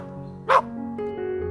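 A dog gives a single short, loud bark close by over a steady musical background.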